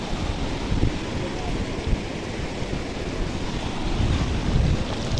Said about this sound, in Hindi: ये नदी बह रही है बिल्कुल बीचों बीच